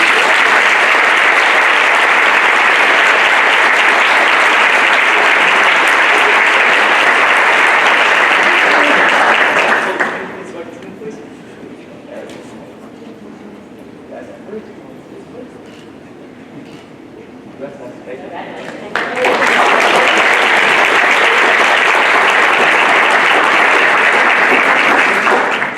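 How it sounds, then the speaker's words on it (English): Audience applause at a board of education meeting, loud sustained clapping from a room full of people, breaking off for a quieter stretch in the middle before a second long burst of clapping. "Please give them all a round of applause."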